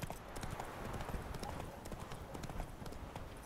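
Horse hooves clip-clop steadily in The Witcher 3 as a rider moves along, a fast rhythmic patter of footfalls that stays faint and even throughout.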